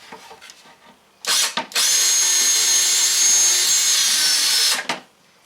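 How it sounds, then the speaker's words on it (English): A power drill bores a small pilot hole through wood on a teardrop camper build: a short start, a brief stop, then a loud steady whine lasting about three seconds before winding down. "Now we'll drill a small pilot hole from this side to this side"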